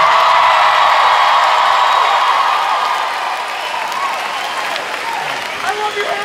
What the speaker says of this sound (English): if I could hear an enormous round of applause